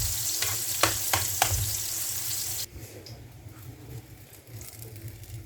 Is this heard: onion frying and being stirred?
yes